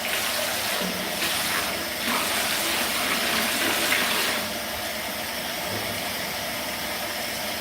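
Cold water gushes steadily into a large hotel hot tub at Trump International, a continuous close rushing splash that eases slightly partway through.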